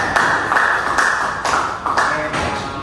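A group applauds in a classroom group-counselling session, with steady mid-level clapping that swells in several rhythmic waves across the short stretch and no voices over it.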